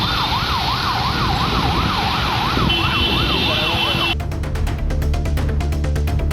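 A wailing ambulance siren cycles steadily through heavy road traffic during a jam on a Kundrathur road, joined partway through by a second, higher siren tone before the sound cuts to a different, rhythmic traffic scene.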